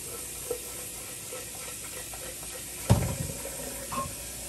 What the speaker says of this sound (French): Je vais verser de l'eau.